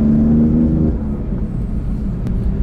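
BMW F80 street drift car cruising with windows up and the air conditioning running, a steady low engine rumble and road drone heard from inside the cabin, with a brief higher tone early on that fades.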